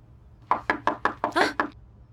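A rapid series of six sharp knocks on a door, close by and evenly spaced, with a slightly heavier fifth knock and no voices.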